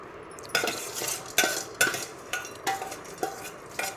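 Fried spices and coriander scraped into a small mixer jar, about eight sharp spoon-on-metal clinks and scrapes in an uneven rhythm, close and alone.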